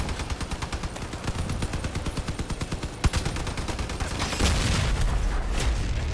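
Rapid automatic gunfire in the vehicle combat game Crossout, a long loud burst of evenly spaced shots with a heavier single bang partway through, followed by a denser roar of continued firing.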